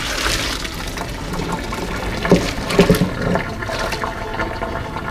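Hot cooked pasta and its water pour into a container for lasagna, a brief rushing, splashing gush near the middle with steady background noise and no talking.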